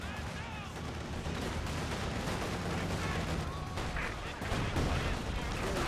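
Field guns and other weapons firing in a Company of Heroes 2 match, a dense, continuous battle din of booms and gunfire with no clear pauses and no voice.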